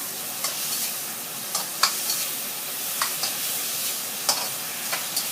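Egg and bitter melon stir-frying in a pan, a steady close sizzle carrying light regular scrapes and taps of a spatula against the pan, with no voices.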